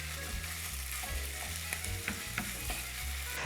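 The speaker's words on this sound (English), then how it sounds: "So let's brown the meat first" Meat browning in a hot pan for fettuccine with spicy 'nduja, a dense, continuous sizzle and crackle with occasional stirring clicks, close and steady throughout.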